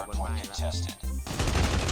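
Rapid bursts of automatic gunfire in the mobile shooter Call of Duty Mobile during a ranked match, loud and close, several volleys in quick succession with brief gaps.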